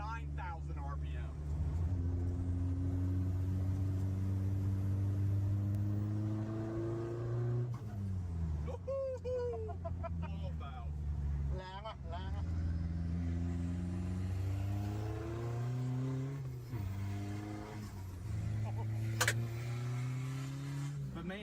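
Vehicle with an Isuzu 4JJ diesel engine redlining at 4,500 RPM, heard from inside as the engine note climbs through the gears in several rising sweeps with brief drops at each shift, loud and close.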